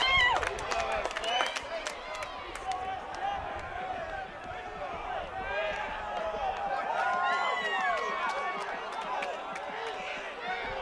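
Cheering and clapping from the crowd and bench at a San Diego State home game after a goal, a sustained roar with scattered claps and shouts, with excited voices throughout.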